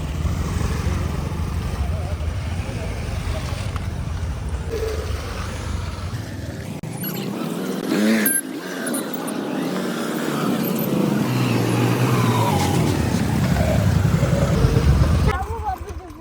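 Steady road traffic near a school hostel, a continuous rumble of car and motorbike engines that swells louder toward the end, with people talking over it.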